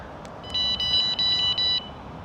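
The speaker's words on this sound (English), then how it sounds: "Now it should beep again. And that means it's now armed." A motorhome alarm system gives a short series of about four clean electronic beeps as it arms, moderately loud against a quiet background hum.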